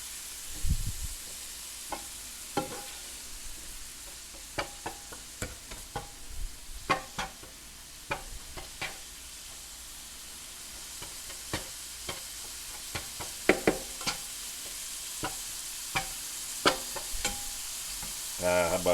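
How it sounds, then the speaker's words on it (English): Hamburger meat browning in a frying pan with a steady low sizzle beneath frequent scraping and tapping of a utensil stirring the meat, close and moderately loud. "So let me brown this meat down"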